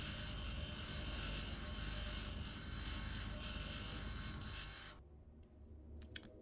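Grinder tool in the Mars survival video game Occupy Mars, a steady loud mechanical whirring drone that cuts off abruptly near the end, followed by a few faint clicks.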